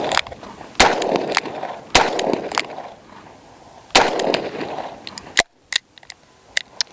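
A revolver fires .38 Special rounds, sounding as several loud, sharp, close reports spaced about a second or two apart, with one weaker pop from a squib round and mechanical clicks between shots.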